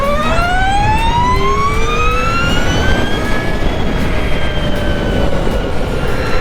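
Energica Ego electric motorcycle accelerating hard from a standstill with a heavy rider aboard, its rising electric motor whine sweeping steadily upward in pitch over loud road and wind noise, close and continuous.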